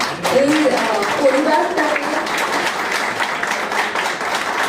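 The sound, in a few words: audience applauding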